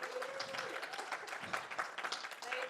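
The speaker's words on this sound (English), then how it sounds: "So let's give her another round of applause" An audience claps in a soft, steady patter of applause that carries on for a few seconds, heard from a distance.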